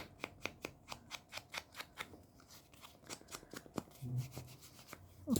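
Scissors trimming paper edges for a junk journal, a quick series of crisp snips in a steady rhythm, close and faint, with soft paper rustling toward the end.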